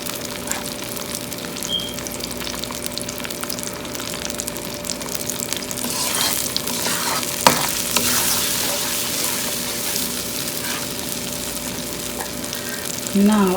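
Tomatoes and cumin frying in a pan for karela and kheema, a loud close sizzle that swells midway with stirring scrapes and a sharp knock, a steady hum beneath, no talking.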